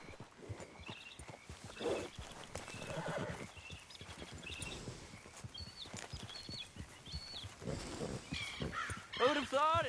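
In Red Dead Redemption 2, rhythmic clip-clop of horse hooves moving steadily, with a horse's whinny near the end and a voice talking over it.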